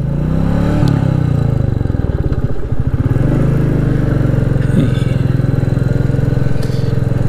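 A motorcycle rides along steadily through an old historic town, its engine droning loud and continuous with a rattly clatter throughout, some rising revs midway and no speech over it.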